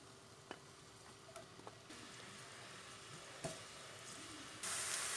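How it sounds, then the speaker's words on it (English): Chopped onions sizzle faintly in olive oil in a saucepan, a soft steady hiss broken by a few small clicks and ticks, growing louder toward the end. "So our onions go into the pan."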